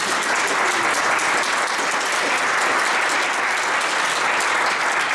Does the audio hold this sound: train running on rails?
no